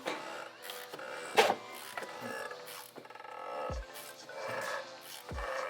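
A ratchet tightens the oil filter cap on a BMW F25 X3 with an N52 engine, giving a close series of uneven clicks and mechanical creaks.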